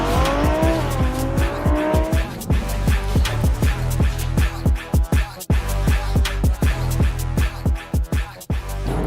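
Cars driving recklessly on a highway: loud engines revving and shifting in rapid repeated bursts, with tire squeal and skidding at the start, close and continuous throughout.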